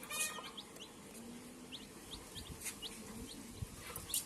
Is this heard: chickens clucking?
yes